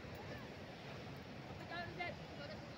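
Ocean surf rolls in at Ujung Batu beach in Padang, West Sumatra, where young people train at surfing, heard as a broad, steady wash of waves mixed with wind buffeting the microphone and faint distant voices.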